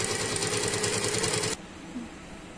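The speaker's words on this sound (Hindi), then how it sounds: "इसी तरह से आपको दोनों कंधी जोड़ लेना है और एक सिलाई चला देना है" A sewing machine stitches the shoulder seam of a suit with a fast, steady close whir for about a second and a half, then stops abruptly, leaving quiet room noise.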